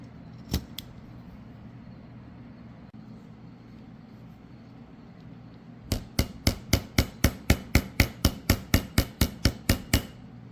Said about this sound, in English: I'm just going to start by getting that riveted onto here and then work on the trim